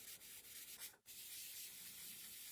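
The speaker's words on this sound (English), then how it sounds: "Do a little bit more wet sanding before we call this part kind of done." Sandpaper rubs wet across a forged carbon part in quick back-and-forth strokes, a close hissing scrape with a brief pause in the middle, no voices.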